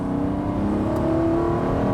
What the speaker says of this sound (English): this particular one we're driving is a very slight misfire, so you might hear that fluffing away